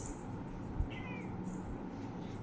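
A cat gives a single short, faint meow over steady background hiss, with no other sounds and no talking.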